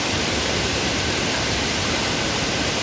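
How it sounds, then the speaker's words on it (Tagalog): Waterfall at Tukal Tukal Falls, also called Devil's Falls, on Devil's Mountain in Botolan, Zambales, heard as a loud, unbroken rushing hiss of water that stays constant throughout. "Let's see kung gaano kaganda yung waterfall sa baba."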